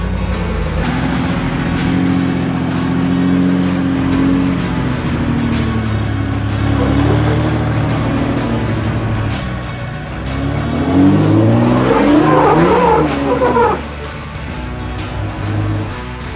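Jeep Gladiator on 42-inch tires crawling a Moab trail, a constant loud engine drone with low rumble and a rising, groaning tire or engine whine near the end, close and without talk.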